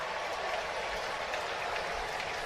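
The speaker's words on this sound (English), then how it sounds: "The crowd loves it." Baseball crowd at a Kansas City Royals versus Minnesota Twins MLB game cheering after an overturned ball-strike call, a steady broad roar of many voices sustained throughout at moderate distance.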